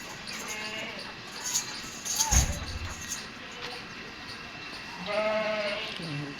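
A large, heavily pregnant Pateri goat bleats on a Karachi goat farm, giving a couple of drawn-out calls, one early and a louder one near the end, over steady barn noise.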